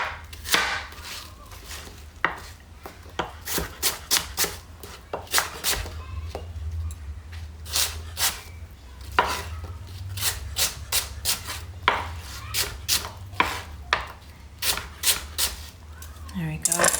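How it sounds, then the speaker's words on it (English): A knife chops apple and rhubarb quarters on a cutting board, producing a steady run of crisp, fairly close thuds and cuts. "So I would slice each of your quarters in half one more time."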